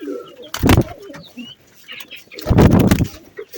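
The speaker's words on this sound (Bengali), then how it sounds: "আমার কবুতরগুলো কিন্তু এই যে আমি এখন ছেড়ে দিচ্ছি" Arabian koka pigeons coo close by with soft, rolling calls, broken by two loud bursts of flapping wings and fluttering as the birds are released.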